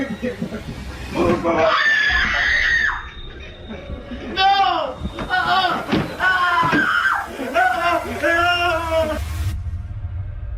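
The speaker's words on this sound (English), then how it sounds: "The brothers were terrified and ran out of the room when they heard a frightening scream." Frightened, high-pitched screaming and shrieking voices come in several loud bursts with short gaps between them, close and intense, alongside some laughter-like cries.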